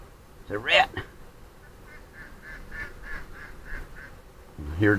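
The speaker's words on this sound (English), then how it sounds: "I hear ducks." Ducks quacking outdoors near a house: a run of soft, evenly spaced nasal calls at a moderate distance, bracketed by louder, closer calls at the start and end.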